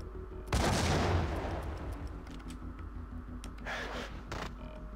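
In the Max Payne video game, an M79 grenade launcher fires and its grenade explodes in a sudden loud burst that rumbles and decays over a second or two, followed by fainter scattered impacts.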